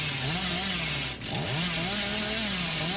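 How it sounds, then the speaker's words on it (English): The Hillbilly's chainsaw in the Dead by Daylight video game, revving in a sustained sprint, loud and close, its buzzing motor pitch wavering and briefly dipping before surging back up. "So I was going for like a full chainsaw sprint there"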